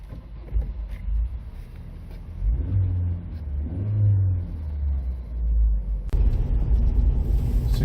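A 1997 Vauxhall Astra 1.6 manual engine rumbles and rises in pitch as it accelerates, easing off and building again, with a sharp jolt and louder road noise near the end.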